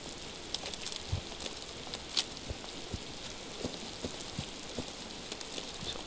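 Steady rain falls in the Miasmata exploration game, a dense even hiss with scattered close drop ticks and patter throughout, moderately quiet with no voices.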